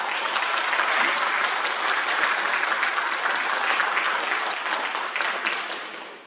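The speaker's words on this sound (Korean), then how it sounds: "새 후보님들 위해서 다시 한번 박수 한번 쳐주세요." Sustained audience applause for candidates at a mayoral election debate in Ansan, a broad, even wash of many hands clapping that holds steady and then fades toward the end, with no talking.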